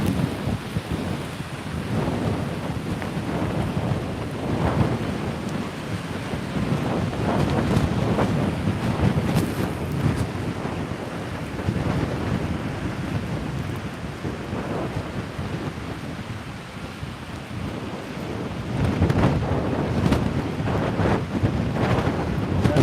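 Strong gusting wind from tropical storm Nicole in St. Augustine, Florida, roars steadily across the microphone with rumbling buffeting and rain-like hiss, swelling and easing over the whole stretch with no voices.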